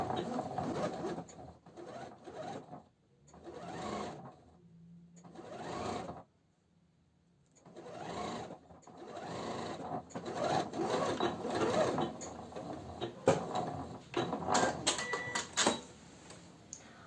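A sewing machine stitches women's trousers with straps in bursts of rapid mechanical whirring, separated by pauses, with a voice speaking at times.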